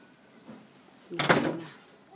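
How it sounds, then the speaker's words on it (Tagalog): A door swings shut inside a Filipino home near the kitchen and dining area, giving one short, fairly close thud with a brief rattle. Softer room noise comes before it. "Nasara ko na yung pinto."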